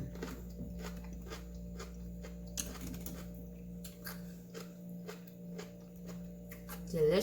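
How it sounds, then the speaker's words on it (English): Crunchy cucumber pickle from brine, kept a week in the fridge, being bitten and chewed up close, a series of quiet crisp crunches in a regular rhythm over a low steady hum. "let me just see if you can hear the crunch that it's still there"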